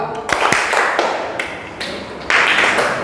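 A crowd of eighth-grade students clapping in quick uneven bursts during a classroom clapping game, several claps together, fairly loud and close, with a busy room around them.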